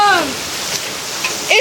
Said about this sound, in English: The gutters are pouring, the streets are kind of flooding.